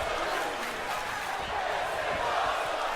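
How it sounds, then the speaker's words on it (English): Crowd in the wrestling video game WWC WrestleStar 3 chanting in the arena, a dense sustained roar of many voices without clear pauses. "The crowd chanting, this is awesome."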